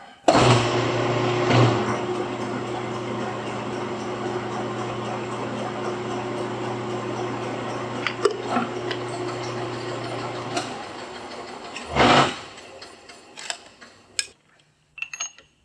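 A lathe runs steadily in a higher gear while machining a part for a broken crosshead on a two-foot gauge steam locomotive, giving a continuous mechanical whir with a low hum that stops near the end, followed by a few clanks.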